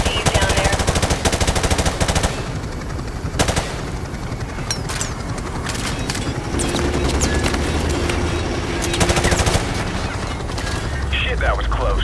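Heavy bursts of automatic gunfire and explosions fill a Call of Duty Modern Warfare Remastered campaign battle, loud and dense with overlapping shots and rumbling impacts, while radio voices speak intermittently underneath.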